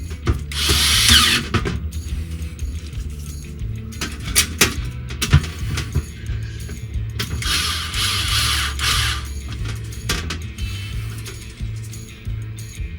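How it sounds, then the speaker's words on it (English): Screws driven back in after fitting a new oven heating element, a power driver whirring and ratcheting in several bursts of a few seconds each, close and fairly loud, with no talk. "now we put the screws back in"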